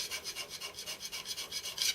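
Hand scraping of a mild steel slide for a Gingery milling machine, a rapid series of about a dozen rhythmic rasping strokes, close and fairly loud, with no voices.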